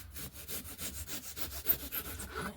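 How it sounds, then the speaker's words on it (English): A balsa wood block for an RC glider wing is cut by hand with a saw, quick rhythmic back-and-forth strokes, close and fairly quiet, about a dozen strokes with no talk. "cut that front bit off"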